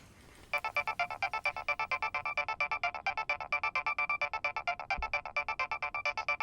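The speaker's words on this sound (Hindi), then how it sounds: "लीला जी का फोन इस वक्त?" A phone ringtone plays continuously in rapid, evenly pulsing bursts, loud and close, with no talking.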